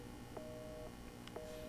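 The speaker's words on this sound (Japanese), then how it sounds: "電話か。" A telephone rings in the Resident Evil 7 house with two short, faint electronic trill tones separated by about a second, set against a steady low background hum.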